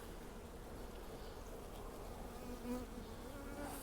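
Honey bees in a nucleus hive full of capped brood give off a steady, dense buzzing close by, an unbroken insect drone with no talking over it.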